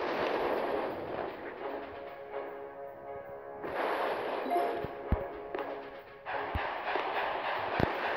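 Artillery fire pounds boom cannons in the mobile strategy game Boom Beach, a dense rumble of blasts with sharp booming impacts at irregular intervals, some louder and closer than others, under steady background game noise.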